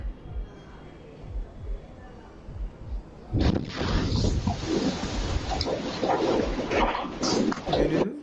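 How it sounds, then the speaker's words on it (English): A sudden deep boom of a house explosion a few houses down, captured by a doorbell camera, followed by sustained loud rumbling and roaring that fills several seconds. "the giant explosion goes off"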